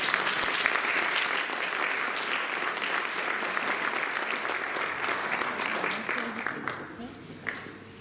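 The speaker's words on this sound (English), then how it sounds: "another round of applause for her" Warm audience applause at a Guru Purnima celebration program, a steady wash of many hands clapping that holds loud for several seconds, then thins and tapers toward the end with a few scattered claps.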